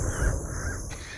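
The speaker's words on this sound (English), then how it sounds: "The birds are so happy, living as one big family." A crow caws once, close and clear, over a steady outdoor background of low rumble and hiss.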